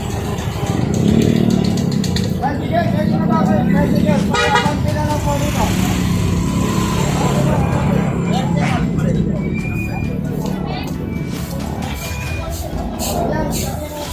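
Motorcycles and cars move through busy street traffic on Balbao Street in the Philippines, with a short horn toot, a steady close engine rumble and people talking over it.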